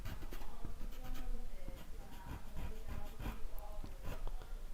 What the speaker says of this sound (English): I'm just going to emphasize with the black pencil some of the branches